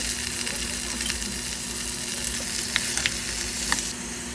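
Squid and radish soup stirred in a pot, a steady bubbling sizzle with soft scraping and a few brief clinks near the end, with no talking.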